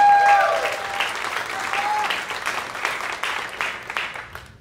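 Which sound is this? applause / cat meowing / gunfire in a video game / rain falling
applause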